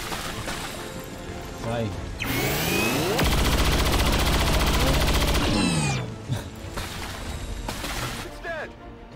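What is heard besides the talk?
gunfire in XCOM 2 video game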